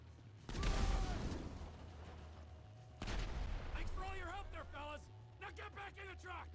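Explosions and gunfire in the video game GTA 5 during a jewel heist, sharp loud blasts at the start and again midway followed by rattling shots, with someone talking over the action.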